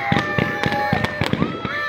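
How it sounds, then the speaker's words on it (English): New Year's Eve fireworks go off outdoors in rapid, repeated sharp bangs and crackles, fairly loud, over a steady background hum. "Husband is out there helping with fireworks"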